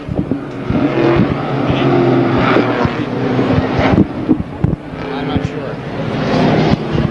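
Late model sportsman race cars at Airborne Speedway roaring and revving as a pack, a loud sustained engine drone with surging rises and bursts, mixed with wind buffeting and a commentator talking over it.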